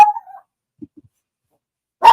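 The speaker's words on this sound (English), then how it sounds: "Okay, so my dog is barking." A dog barks in short bursts indoors, one bark at the start, faint soft sounds in the middle and another louder bark at the end, with quiet gaps between them.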